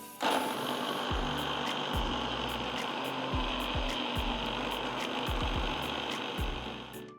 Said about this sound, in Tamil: ஒரு மிக்சர் ஜாரில் நறுக்கின ஸ்ட்ராபெரிஸ் 2 கப் அளவுக்கு நறுக்கின வாட்டர்மெலன் பீசஸும் சேர்த்து நல்லா பிளெண்ட் பண்ணி எடுத்துக்கோங்க